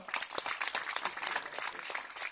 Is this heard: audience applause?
yes